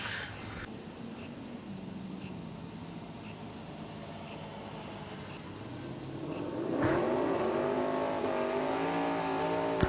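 Drag race car accelerating down the racetrack at a spring Civil Wars drag racing event, a distant engine roar that swells louder and higher in pitch partway through, with no clear talk.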